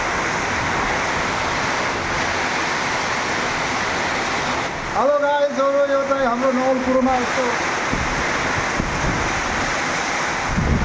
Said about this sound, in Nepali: घुडी बतास आएको छ हेर्नु होला सबै ठाउँमा आएको होला